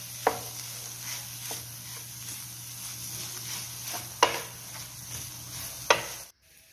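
Paneer is stirred with cumin powder, chili powder and black pepper powder in a pan, with soft scraping strokes, a faint sizzle underneath and a few sharper clicks of the spoon against the pan, close and unaccompanied by talk.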